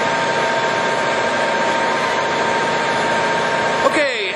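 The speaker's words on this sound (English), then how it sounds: "it's a 20 horsepower main drive motor with the number 50 taper spindle. 100 RPMs." Motor of a Cincinnati #5 horizontal milling machine runs steadily, a 20 horsepower main drive turning a number 50 taper spindle at 100 RPM, giving a loud, even hum that ends in a brief clunk and fading whine.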